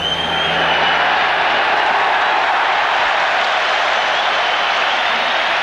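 A huge stadium crowd roars during the 1995 Rugby World Cup match between South Africa and Australia, a loud, dense, unbroken wash of cheering and noise that holds steady throughout.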